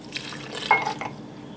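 Water pours briefly into whoopie pie batter in a mixing bowl, a short soft splash and trickle lasting under a second, fairly quiet with no talking.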